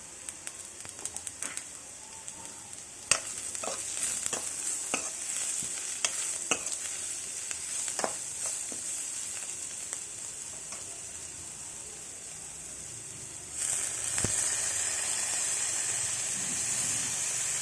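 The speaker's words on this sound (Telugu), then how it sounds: "ఉల్లిపాయలు బాగా ఫ్రై చేయాలి" Onions frying in a pan with rock salt for a fenugreek leaf chutney, a steady faint sizzle with scattered clicks of a spoon stirring, the hiss swelling louder near the end.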